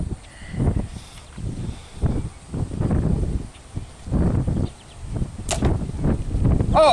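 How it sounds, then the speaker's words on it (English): A slingshot shooting a takedown arrow outdoors, with a series of sharp snaps and whooshing releases in bursts, plus rustling and handling noise between shots. "So right now I want to demonstrate my takedown arrow for you."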